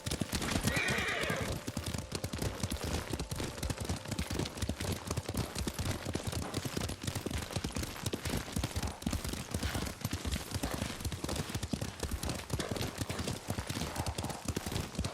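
In the video game Ghost of Tsushima, a horse gallops with steady rapid clip-clop hoofbeats and gives a whinny at the start, set against constant dense, loud gameplay noise.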